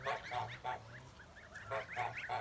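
Several geese honk in a rough, repeating series of nasal calls, fairly close, with quiet stretches between bursts and no talking.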